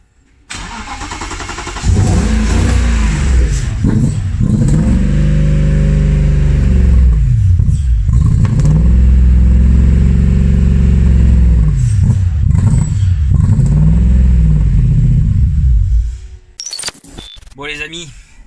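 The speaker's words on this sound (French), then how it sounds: "Et là, il démarre. Il essaye. Ouais, il démarre." A car engine cranks and starts, then revs repeatedly in rising and falling surges, loud and close, with a few clicks and bumps at the end.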